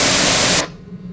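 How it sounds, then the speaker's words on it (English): A white noise sound effect loops in the Unreal Development Kit editor, a loud, steady hiss that cuts off abruptly partway through and leaves only a faint low hum. "it played the white noise constantly"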